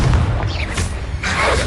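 Confringo fire-blast spell going off in Hogwarts Legacy: a short, loud, booming burst with a crackling blast tail, standing alone without speech.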